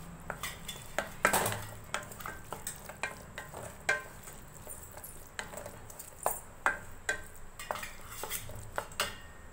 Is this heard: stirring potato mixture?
yes